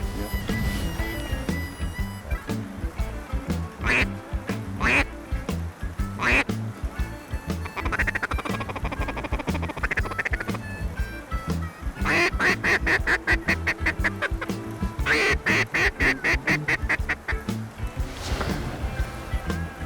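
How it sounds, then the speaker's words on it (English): A gray duck quacks repeatedly in rapid bursts outdoors, loud and near, with intermittent gaps and faint background noise. "That's a gray duck right here."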